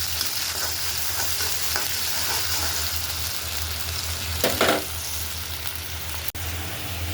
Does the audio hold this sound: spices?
yes